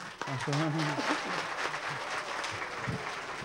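Applause from an audience at a public debate on artisans' rights at a crafts fair, a dense wash of clapping under a voice and other talk that cut through it near the start.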